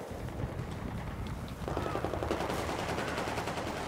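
Battlefield 4 multiplayer gunfire, rapid automatic bursts rattling continuously at moderate distance, growing denser and closer partway through.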